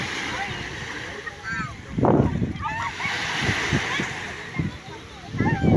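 People bathe in the sea at a Batangas beach on a family outing, with intermittent water splashes and sloshing amid outdoor ambience, while voices and children's calls are heard around them.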